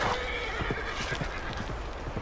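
A horse in the Red Dead video game neighs and whinnies loudly, with hoof clip-clops thudding steadily underneath throughout.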